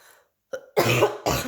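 A person coughs twice, close and abrupt, after a faint short sound at the start.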